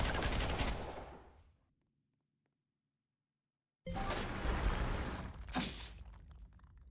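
A machine gunner in the Roblox game Cold Front fires sustained bursts of gunfire. A long burst is followed by a couple of seconds of silence, then a second burst with some scattered shots near its end.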